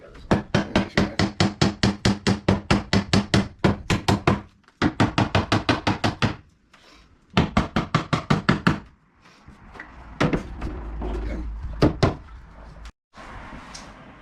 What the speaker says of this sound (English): take your hammer and go ahead and just pull those existing nails if you can, and if not, tap them in.